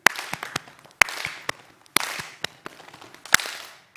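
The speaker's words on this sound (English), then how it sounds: "It's the same thing again, then 2 on the legs and another clap." Conference audience clapping and slapping their legs together in a rhythmic pattern, sharp group claps at regular intervals with softer slaps between, crowd-wide and fairly loud in a hall.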